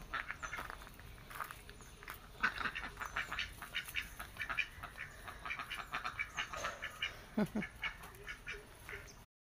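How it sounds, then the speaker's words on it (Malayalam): A duck quacks repeatedly in a rural village yard, a string of nasal honking calls at moderate distance amid faint outdoor ambience. "ആ പായുന്ന താറാവ്."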